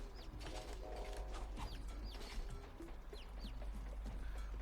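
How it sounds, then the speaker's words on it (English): Chickens cluck in the side-scrolling video game Black Knight Sword, with short chirpy calls scattered over a steady mechanical game hum and background music, no talking over them. "there are chickens there"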